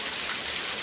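Heavy monsoon rain pours steadily in Chatra, Jharkhand, a dense, even hiss of drops hitting surfaces with no pauses.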